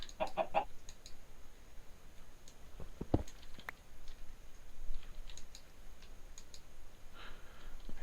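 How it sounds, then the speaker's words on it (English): Chicken clucking in the video game Minecraft (Agrarian Skies modpack), a few short, soft clucks scattered across a quiet background with occasional keyboard clicks. "It's a chicken."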